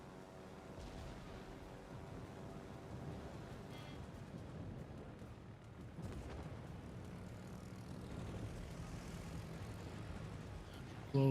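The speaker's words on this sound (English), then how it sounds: "My torpedo bombers up." Torpedo bomber aircraft droning steadily in a World of Warships naval battle, a low continuous engine hum with faint distant booms mixed in, quiet throughout.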